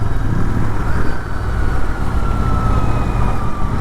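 Steady city road traffic of motorcycles and cars rumbles close by on a highway from Nainital toward Gurgaon, a continuous loud engine drone without speech.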